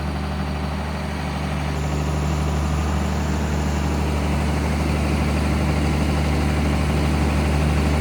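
A tractor, the 210, runs steadily while pushing feed on a beef cattle farm: a continuous low diesel drone with a constant hum and no pauses.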